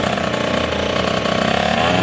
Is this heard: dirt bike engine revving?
yes